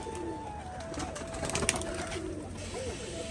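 Giribaz pigeons coo softly in low, rolling calls, close by, over a steady background hum.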